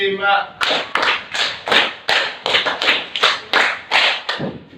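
A class of students claps along in a rhythm game in a classroom, about ten loud, evenly spaced bursts of group clapping in a steady beat after a brief voice at the start.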